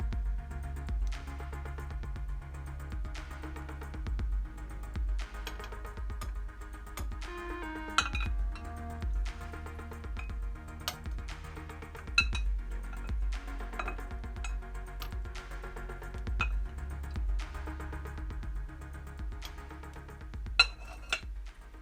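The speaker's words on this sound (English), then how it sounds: "we're just going to start spooning some of the liquor inside" A metal spoon clinks repeatedly against a glass jar as cooled marinade is spooned over foraged dandelion capers in a narrowboat kitchen. The taps are light and irregular and carry clearly in a quiet room.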